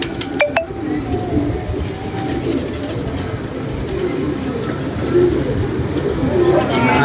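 Pigeons coo in low, throaty murmurs on a rooftop loft, with a female pigeon nearby, under steady background noise, a few clinking sounds near the start and people talking throughout.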